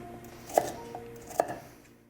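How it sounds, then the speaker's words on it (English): A kitchen knife chops root vegetables such as parsnips and beet on a board, making two distinct sharp knocks about a second apart over a quiet kitchen background. "So I'm gonna finish chopping these up, these two parsnips, and we'll move on to the beet"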